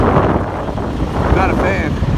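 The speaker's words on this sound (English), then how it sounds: "This wind is horrible." Strong gusty wind buffets the microphone near a truck at a warehouse, making a loud, rough rumble that swells and dips, with a brief voice-like tone partway through.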